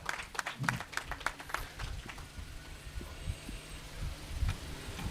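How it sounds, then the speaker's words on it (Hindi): Scattered, uneven clapping from a church congregation, with sharp individual claps standing out over a low background hum. "तो ज़ोरदार तालियां बजा दीजिए शादमानी के साथ"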